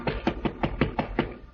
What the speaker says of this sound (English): there is a knock on the door